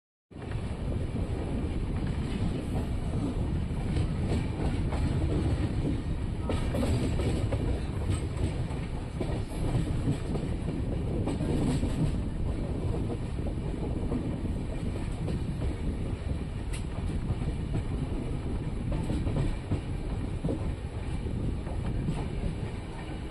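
Passenger train running on a single-track line near Tandur, a continuous loud rumble with rhythmic clickety-clack of wheels over rail joints throughout.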